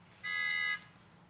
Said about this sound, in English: A horn honking.